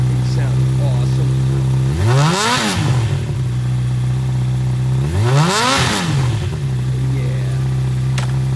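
A 2007 Honda CBR600RR middleweight supersport motorcycle engine idles steadily, then revs sharply twice in two rising and falling sweeps, loud and close, returning to idle between them.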